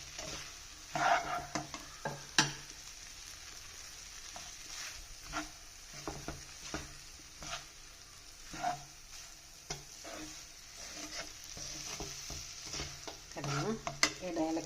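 A snack mixture with roasted coconut being stirred in a pan for samiya aada, repeated scraping strokes over a soft continuous sizzle, with scattered utensil clinks.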